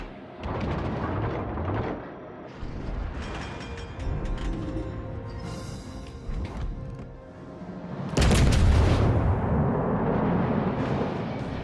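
Artillery fire from a Stalingrad battle video game: heavy booming blasts and rumbling gunfire with mechanical creaks, building to a loud burst of explosions partway through, with no talk.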